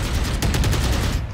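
Shotgun gunfire in the Valorant video game, a loud rapid burst of blasts fired close in quick succession, with no talk over it.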